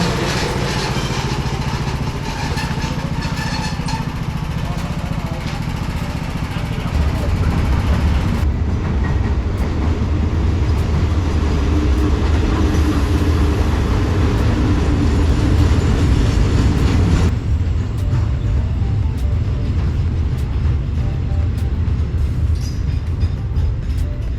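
A train rumbles loud and close through Sriracha Junction railway station, with heavy low clatter of the cars and a steady roar that changes character partway through the pass.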